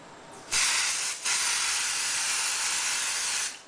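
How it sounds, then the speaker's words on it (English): A close aerosol can hisses in a short burst onto the back of a silk hair closure, stops briefly, then sprays again in one long steady blast before cutting off. "So I actually got my spray now. Let me scoot this over. And so I'm just going to spray on the back."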